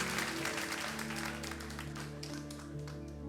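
A church congregation claps after a joke during a service, a steady dense patter of many hands held at even strength for the whole stretch, with a soft tonal backdrop underneath.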